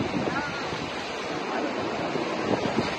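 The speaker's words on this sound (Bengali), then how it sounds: "সমুদ্র উত্তাল হয়ে গেছে, উত্তাল একদম" Rough, churning sea surf at Mandarmani beach roars steadily and loudly throughout, a dense wash of breaking waves mixed with wind buffeting the microphone.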